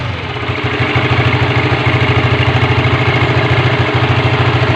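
A Honda Supra GTR FI motorcycle engine starts and settles into a steady, rhythmic idle, loud and close, with an even pulsing chug and no voices.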